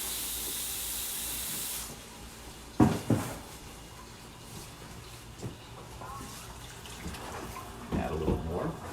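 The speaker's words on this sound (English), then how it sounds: "I put in some cold water." Cold water runs from a tap into the lid of a cooking pot being used as a measuring cup, a steady hissing pour at first that stops after two seconds, followed by clanks of the pot and lid and quieter water sounds.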